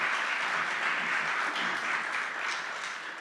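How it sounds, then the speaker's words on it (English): A conference audience at a fireside chat applauds in a dense, steady wash of clapping that holds evenly, then begins to fade at the end. "One round of applause for Kerry-Ann"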